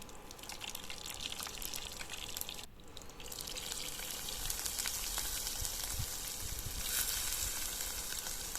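Mustard seeds, urad dal, dried red chillies and onion sizzle and crackle in hot oil, a steady frying hiss that stays fairly quiet, with a short dip before the sizzling picks up again.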